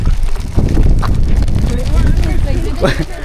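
Strong, steady wind buffets the microphone with low rumbling gusts, while voices talk faintly underneath.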